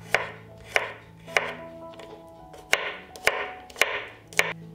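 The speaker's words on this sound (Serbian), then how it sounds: "zatim ću iseckati 2 čena belog luka" A knife chops two garlic cloves on a board in eight crisp, evenly spaced strikes, close and loud over a quiet kitchen hum.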